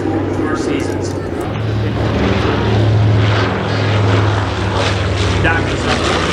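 Vintage warbird Doc flying past at an airshow, its piston propeller engines giving a steady, loud drone that swells and holds throughout.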